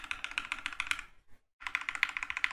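Rapid keystrokes from a mechanical keyboard fitted with lubed Alpaca linear switches, a dense run of clacks, a brief pause, then another fast burst, close and fairly loud with no talking.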